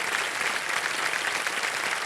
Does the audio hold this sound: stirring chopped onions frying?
no